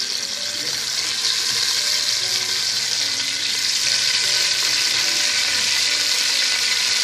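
Chicken frying in hot oil gives a loud, steady, close sizzle that runs without a break throughout, with faint stirring beneath and no speech.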